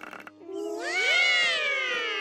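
A cartoon cat gives one drawn-out, rising-then-falling meow, voiced clearly and alone after a brief scuffle of background noise.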